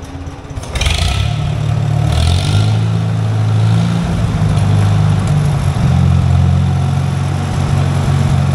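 An old Farmall tractor that sat unused for many years, its engine starting up and settling into a very low, steady loping idle, loud and close, with no talking.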